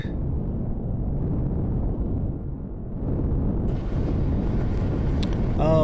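Explosions during an attack in the Empyrion Galactic Survival space game, a continuous heavy rumbling roar that swells partway through, with crackling higher bursts near the end, loud and close.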